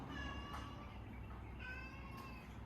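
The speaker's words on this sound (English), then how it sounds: "Cat wants something." A cat meows a few times, faint and somewhat distant, under a steady background hiss in a room where a dog is being massaged.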